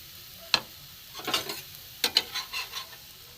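Potato-stuffed roll frying in a pan, with a few sharp scraping clicks and bursts of crackling sizzle coming in short spurts over a quiet background.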